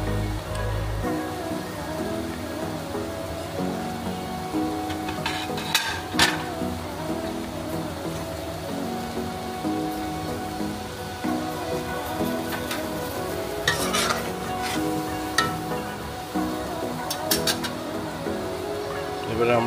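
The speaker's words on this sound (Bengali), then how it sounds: "এবার আস্তে আস্তে আমরা মাছগুলো ছেড়ে দেবো।" Katla fish pieces eased into a simmering pan of doi gravy, giving a steady bubbling crackle with scattered sharper pops, under a person talking.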